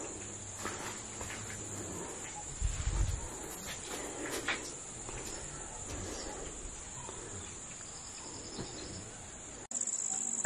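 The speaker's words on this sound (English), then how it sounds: "the sound of all the wildlife here. All the birds and the flies and insects." Dense, continuous high-pitched buzzing of crickets and insects fills the night air at a wild campsite in Gal Oya, Sri Lanka, with scattered bird chirps and a low thump partway through.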